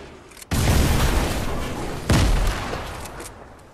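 Heavy explosive blasts from a grenade launcher in a first-person shooter game, two loud booming bursts with rumbling tails, the second arriving about a second and a half after the first.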